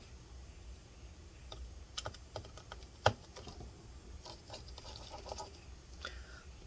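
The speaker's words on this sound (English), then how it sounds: "let's go ahead and remove all these screws" Small screwdriver clicks and light metallic taps while backing out the wireless antenna screws on a 2020 13-inch Touch Bar MacBook Pro A2289, scattered close-up ticks with one sharper knock midway, no talking.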